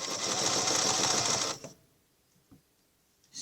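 Sewing machine runs a continuous loud stitching burst while quilting a Baptist Fan curved pattern, then stops abruptly, followed by near-silence with a couple of faint clicks.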